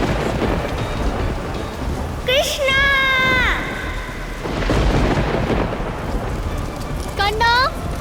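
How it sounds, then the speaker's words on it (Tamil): A violent storm in a Tamil mythological TV drama, with thunder rumbling and rain hissing steadily throughout, while a voice cries out loudly and urgently over the storm twice. "அப்பொழுது தீவிரமாக புயல் வீசியது."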